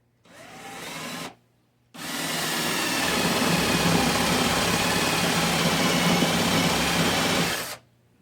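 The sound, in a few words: power drill boring a hole in a wooden pumpkin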